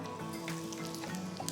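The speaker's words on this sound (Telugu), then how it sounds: "సో ఆవాలు చిటపటలాడిన తర్వాత దీంట్లో కొద్దిగా ఇంగువ" Mustard seeds and asafoetida sizzle in hot oil for tempering, alongside urad dal, a faint continuous frying hiss with soft crackles and pops, and no talking.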